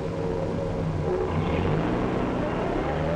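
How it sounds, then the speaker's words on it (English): A 1946 city bus engine drones steadily at close range, a low continuous rumble whose pitch shifts slightly as the driver changes gear, with no voices. "He shifts gears."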